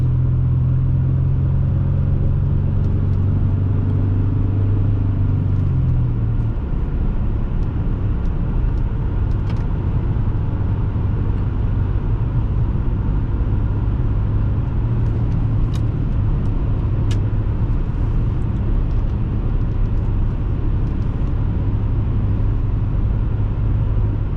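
A 2001 Dodge Intrepid with a 3.5L engine drives along, its steady low engine drone and road rumble filling the cabin, briefly easing off early on before settling into an even cruise.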